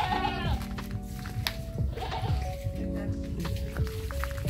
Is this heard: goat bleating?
yes